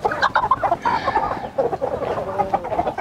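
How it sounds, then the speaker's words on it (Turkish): Roosters of different breeds cluck in a farmyard coop, a quick run of close, choppy clucks and short squawks that keeps going with brief pauses. "Farklı tür horozumuzu ayırıyoruz"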